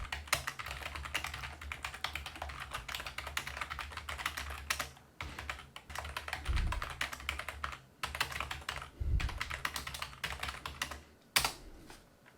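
Computer keyboard typing while formatting a document: a steady, close run of rapid key clicks with a few heavier presses, continuing for the whole stretch with only short pauses.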